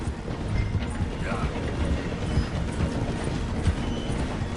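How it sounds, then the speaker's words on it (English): A steam-era train in the Red Dead Redemption 2 video game rolls through a station with a steady rumble and rhythmic clatter of wheels on track, loud and close, with horse hooves clopping alongside. "The train is slowing down to go through the station."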